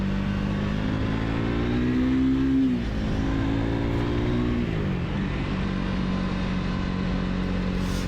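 A Triumph Speed 400 motorcycle accelerates hard on a twisty country B-road. Its engine note is loud and close, climbing in pitch, then dropping at two quick gear changes before pulling steadily again.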